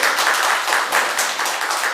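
A church congregation at a Sunday morning service claps together in a quick, even, rhythmic burst of applause that stays loud and close for the whole moment.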